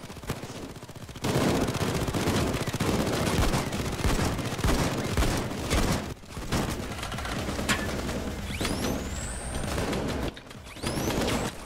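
A sentry gun firing during a Payday 2 heist, dense continuous automatic bursts that run almost the whole time with brief breaks, loud and close, with no voices over it.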